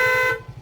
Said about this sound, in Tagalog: Pag nagbubusina, try mo nga sa ulit busina.